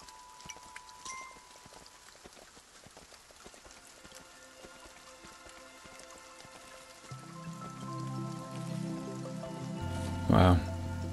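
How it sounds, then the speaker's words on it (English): Rain falling in the video game Kingdom Two Crowns, a steady soft patter of drops with game music and tones layered over it, growing fuller toward the end. "it started raining in the kingdom world"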